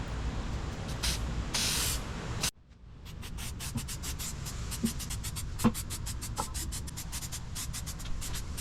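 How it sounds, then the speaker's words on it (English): A spray can of lacquer hisses in long bursts, then falls silent, followed by a run of quick rattling and light clicking. "To complete the finish, I used a few coats of spray lacquer"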